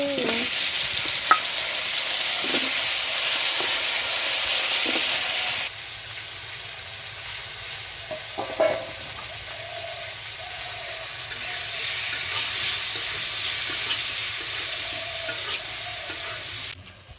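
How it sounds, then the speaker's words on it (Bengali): Steady sizzling of pointed gourd slices frying in a pan, a loud hiss that drops quieter partway through, with occasional scrapes and clinks of stirring. "এই তো পটল ভাজা হয়ে গেছে"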